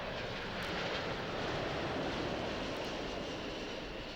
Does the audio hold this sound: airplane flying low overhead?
yes